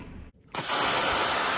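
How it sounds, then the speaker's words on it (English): A dental air/water syringe blasts a steady stream of air in a loud, continuous hiss that starts abruptly after a brief pause following a shorter burst, and holds without break to the end. "This is how you spray the air."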